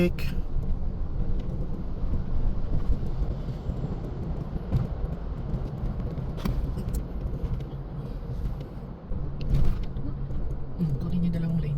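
Night road traffic near Manila's NAIA airport heard from inside a moving car, a steady low rumble of engine and tyre noise with passing vehicles, wind buffeting and occasional interior rattles.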